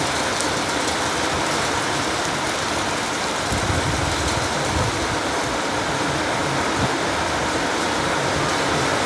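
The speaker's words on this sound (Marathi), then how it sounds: "पाऊस बघा किती जोरात पडतोय" Heavy monsoon rain pours down outside a Konkan home during Ganesh Chaturthi, a dense, steady roar of water hitting surfaces that stays loud and unbroken throughout, with no voices.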